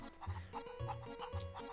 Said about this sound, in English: There's chickens everywhere.